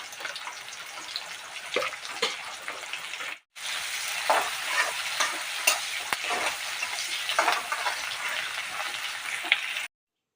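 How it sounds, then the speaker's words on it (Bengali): Chopped onion, bay leaves and whole cumin with a little salt sizzle steadily in hot oil, with frequent scraping stirs over about ten seconds and a brief cut partway through. "পেঁয়াজটা লাল করে ভাজা করে তারপর আমি মশলাগুলো দিয়ে দেব"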